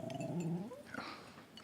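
A dog growls low and then lets out whimpering, whining tones, close and fairly quiet, the throaty rumble shifting into higher plaintive sounds within a moment.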